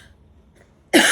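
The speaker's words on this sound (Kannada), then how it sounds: "ಈ ಕೆಮ್ಮು ನನ್ನ ಮಾತಾಡೋಕ್ಕೆ ಬಿಡ್ತಾ ಇಲ್ಲ ಗೈಸ್" A single sharp, loud cough bursts out close to the microphone after a near-silent moment.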